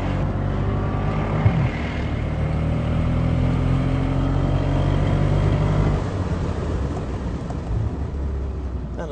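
A Mercedes SL63 AMG or BMW M6 sports car engine accelerating hard on a race track, a loud sustained engine roar with rising pitch from inside the car.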